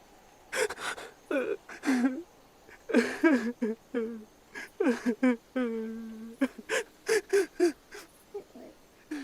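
A voice sobbing and whimpering in broken bursts over a telephone line, with gasping breaths and wavering cries between short pauses.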